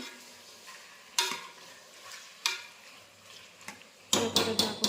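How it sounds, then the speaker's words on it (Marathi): A spoon stirs and scrapes Bengali-style chicken in a frying pan, giving three louder scraping bursts over a low, steady sizzle, with the final stretch busiest. "असं मध्ये मध्ये ढवळत राहायचं ढवळायचं"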